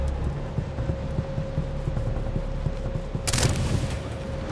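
Rapid automatic gunfire from a weapon in the Far Cry 3 video game, steady booming bursts over a constant hum, with a brighter, louder crack near the end.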